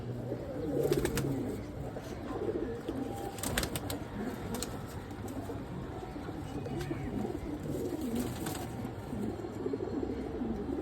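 Several pigeons coo continuously in low, throaty, overlapping phrases at close range, with a few brief sharp clicks or flutters scattered through.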